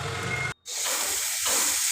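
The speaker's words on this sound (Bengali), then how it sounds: "সব মিলিয়ে মিশিয়ে একসাথে ভাজা করে আমি আজকে তরকারিটা করেছি" Mixed vegetables and spices fry in a pan for a Bengali puishak (Malabar spinach) chhyachra, a steady bright hiss and sizzle broken once by a brief silent gap.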